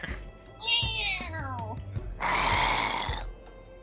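A voice imitates a cat, giving a drawn-out meow that bends downward, followed by a breathy, hissing growl, close and fairly loud during a tabletop roleplaying session.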